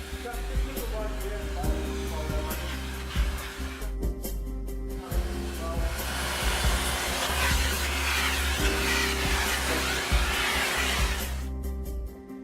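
A vacuum fitted with a hose and brush and an H-type filter runs steadily while cleaning a red protective coverall, a continuous broadband motor whine with brief dips as the brush moves, close and loud throughout.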